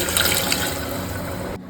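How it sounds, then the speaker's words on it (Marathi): Steady rush of one and a half glasses of water pouring into a pot of horse gram curry mixture, close and continuous, cutting off abruptly near the end. "एक दीड ग्लास पाणी टाकणार आहे मी"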